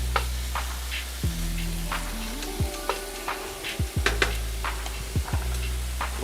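Venison stroganoff mixture sizzles steadily in a hot pan, a close, continuous fry with occasional clicks and scrapes of stirring, and no voices.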